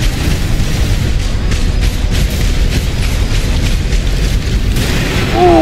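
Armored Core 6 mech weapon fire and an explosive hit roar as a loud, dense rumbling blast that holds steady for several seconds, ending with a brief electronic whine.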